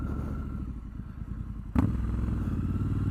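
A Triumph Scrambler 1200 XE motorcycle rides at low speed, its engine a steady close throb that picks up with a sudden louder thump partway through, then holds a deeper, fuller rumble.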